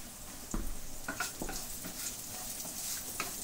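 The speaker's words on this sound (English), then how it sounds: "Just start sweating off the onions." Chopped onions sweat in a pan for traditional risotto, giving a soft, low hiss with a few faint stirring clicks and scrapes, quiet and close, with no talking.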